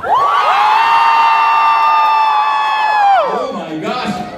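A large live crowd at a Philippines event roars together on a countdown, one loud sustained unison shout that holds for about three seconds, then slides down and breaks into scattered cheers and whoops.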